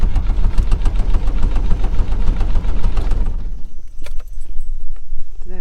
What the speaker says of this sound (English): That's the door shaking, not the van.